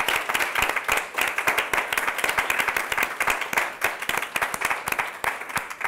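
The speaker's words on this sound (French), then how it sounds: "je pense qu'on peut applaudir" An audience at a student research presentation event claps for the presenters, sharp individual claps blending into lively applause that holds steady, fairly close, with no speech.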